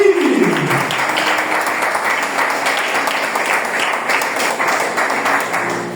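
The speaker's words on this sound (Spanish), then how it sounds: "Aplausos y va a aplaudir, aplausos y va a aplaudir." Church congregation breaks into loud, sustained applause, a dense continuous wash of many clapping hands filling the room, as a voice fades out at the start.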